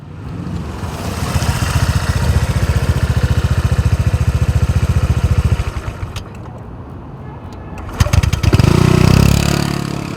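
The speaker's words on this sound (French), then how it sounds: "le moteur repart instantanément à la moindre sollicitation de l'accélérateur" A 2014 Honda PCX 125 scooter engine idles with a steady, rapid putter, then shuts off into near quiet before restarting with a short cranking burst and settling into a louder close-range idle.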